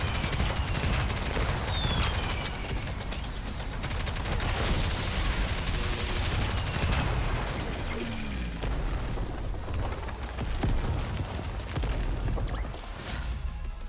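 Sustained gunfire and explosive booms in the Nikke: Goddess of Victory video game, a dense, busy battle texture of shots and crashes running throughout.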